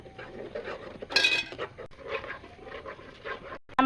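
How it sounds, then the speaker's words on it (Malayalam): Unniyappam batter being stirred and kneaded with jaggery syrup in a bowl: a steady, close, wet scraping and clinking of the spoon, with a brighter burst of clatter partway through. "ഇനി നമുക്കിതിൽ കുറേശ്ശെ ശർക്കര പാനി ചേർത്തൊന്ന് മിക്സ് ചെയ്തെടുക്കാം നന്നായിട്ടൊന്ന് കുഴച്ചെടുക്കാം"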